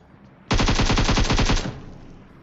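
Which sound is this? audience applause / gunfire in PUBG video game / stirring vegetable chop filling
gunfire in PUBG video game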